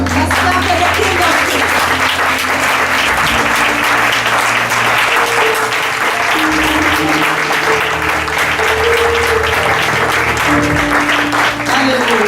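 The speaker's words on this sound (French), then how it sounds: "Est-ce qu'on peut acclamer pour le roi de roi?" A church congregation at a worship service breaks into loud, sustained applause that fills the room for over ten seconds, with voices and musical tones carrying through the clapping.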